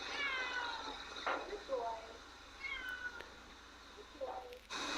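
A Lykoi cat meows during a bath, giving several short, plaintive meows spaced apart at close range, with a person talking softly between them.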